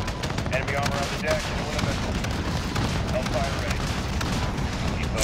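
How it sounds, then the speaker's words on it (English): Repeated rocket fire in a Call of Duty: Modern Warfare campaign battle, a dense, continuous rumble of launches and explosions booming without pause, loud and close in a chaotic war scene. "I'ma just spam the rockets."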